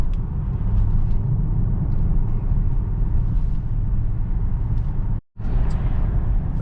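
A BMW 650i E64 convertible on the road, a steady low engine and tyre rumble from inside the car with faint ticks, cut by a brief dropout near the end.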